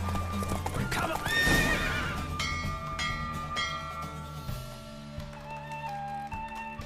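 A horse galloping in The Witcher 3: Wild Hunt, with rhythmic hoof clip-clops and a neigh, set against layered game music with sustained tones and bell-like notes.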